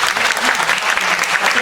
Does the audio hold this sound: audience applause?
yes